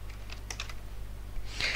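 Quick bursts of keystrokes on a computer keyboard as a terminal command is entered, clacking in short irregular clusters and ending in a louder flurry of taps, with no talking.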